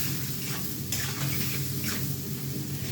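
Vegetables fry in a pan while being stirred, with a soft, steady sizzle and a few brief scraping sweeps of the spoon, fairly quiet and close.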